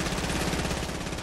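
Rapid gunfire from a multiplayer shooter video game, a dense continuous burst of shots filling the whole moment at steady loudness with no voices over it.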